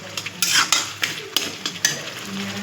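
Tomatoes being fried in a pan with potatoes and fish for a home-cooked dinner, a close, soft sizzle broken by several sharp scrapes and clinks of a spatula stirring against the pan.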